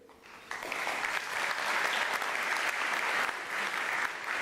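Graduation ceremony audience at a university spring graduation breaks into steady applause, a dense, sustained clatter of many hands that swells after a quieter start and holds for several seconds.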